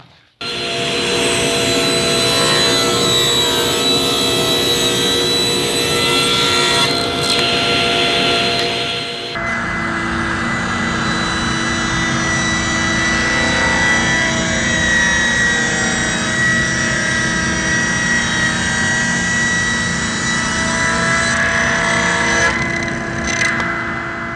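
Table saw cutting wood, a steady loud whine with a strong motor hum that holds for the whole cut, with a shift in pitch partway through as the blade loads in the board.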